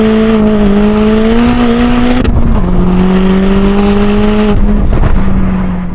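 A 330 bhp VW Polo GTi Clubsport engine pulls hard in third gear, a loud, close, rising roar that climbs steadily, with brief dips at gear changes before the note climbs again.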